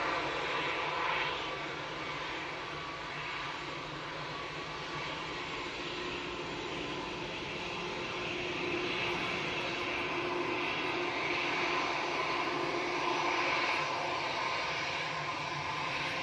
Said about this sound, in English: EasyJet's coming towards us